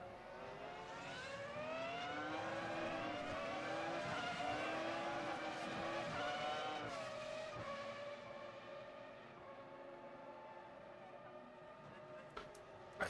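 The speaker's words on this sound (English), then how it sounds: "As we hear the glorious sound of the V8." High-revving V8 engine of a Formula RaceRoom X-17 car at Monza in RaceRoom, rising and falling through gear changes, a wailing, whining tone that climbs repeatedly then settles into a steadier drone; a voice talks underneath.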